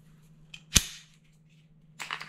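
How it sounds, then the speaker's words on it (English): The slide of a Sig Sauer P365-XL Comp handgun is racked, producing one sharp metallic snap followed by a shorter clack about a second later, close and clear over a quiet low hum. "Serrated rail to help you grip while racking the firearm"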